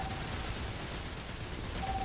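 Sustained, dense gunfire in the Starfield video game, a continuous rattling barrage with no pause over the short stretch.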